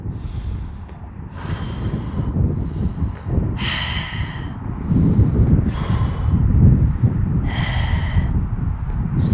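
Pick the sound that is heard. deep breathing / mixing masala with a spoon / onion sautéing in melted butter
deep breathing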